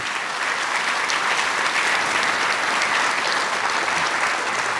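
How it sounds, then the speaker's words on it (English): Sustained applause from an audience at a university president's State of the University event, dense steady clapping filling the room at full loudness, with no talk over it. "Let's give them a round of applause as well."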